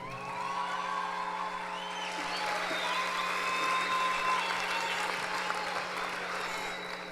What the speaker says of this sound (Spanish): Y ahora sí recibamos a nuestros profes con un fuerte aplauso.